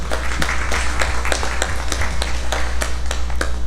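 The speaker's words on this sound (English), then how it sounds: "ask that we give them a collective round of applause" Members of a legislative congress give a collective round of applause during a special session, scattered individual claps ringing out at an uneven rhythm over a constant low hum from the chamber's sound system.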